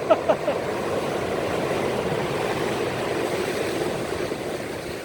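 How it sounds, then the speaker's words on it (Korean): Strong ocean waves crash and wash continuously against the shore, a loud, steady broadband roar with a couple of sharper splashes at the start and no talking. "강합니다 파도가"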